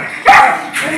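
A dog lets out two short, close barks or yips, a louder one followed by a softer one, in a quiet home setting.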